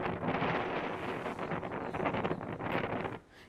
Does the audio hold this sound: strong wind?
yes